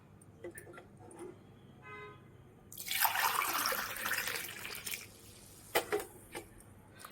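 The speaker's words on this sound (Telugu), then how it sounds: "వాటర్ వేసుకుందాము." Water is poured in a single rushing burst of a couple of seconds midway through, followed by a few drips and clinks. Soft background noise and some faint voice sounds surround it.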